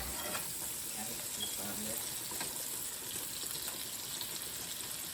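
Steady sizzling and crackling of food frying in a pan, a constant hiss close by with faint clinks.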